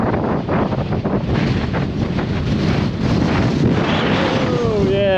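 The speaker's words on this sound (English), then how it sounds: "And that wind is strong" Strong gusting wind buffets the microphone at a coastal bay, a loud continuous roar with surf-like rushing, while people talk over it and a brief whistling tone rises near the end.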